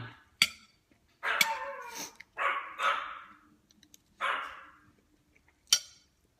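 Several dogs barking near a home kitchen, sharp loud barks in irregular bursts with short pauses between, some barks clipped and others drawn out, close by with no talk over them.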